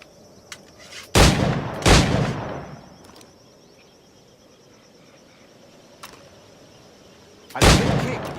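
Loud, sharp gunshots from a firearm in Assassin's Creed IV Black Flag: two quick blasts, a quiet pause with faint clicks, then a third shot, each ringing out briefly without talk.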